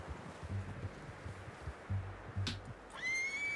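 A horse in the video game Red Dead Redemption 2 gives a short whinny near the end, amid soft rustling and low thumps of movement, fairly quiet.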